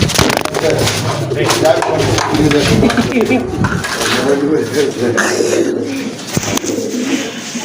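Pigeons cooing at a pigeon market, a steady low burbling chorus from several birds close by, running under continuous talk from buyers and sellers.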